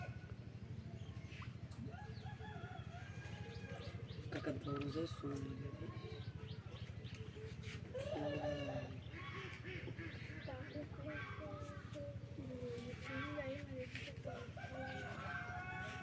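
Chickens cluck and a rooster crows faintly in the background near a pond, several short calls scattered through the passage beneath steady talking by nearby people.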